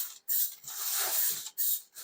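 Cooking spray hisses from an aerosol can onto the outside of a metal springform pan for a New York style cheesecake, in three short bursts with brief gaps between them, close and moderately loud.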